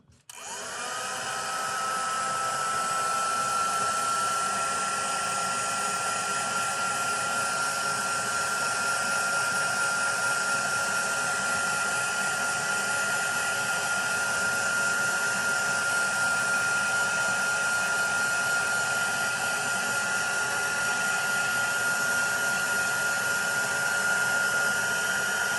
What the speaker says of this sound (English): I'm going to give this a quick blast with the heat gun just to dry off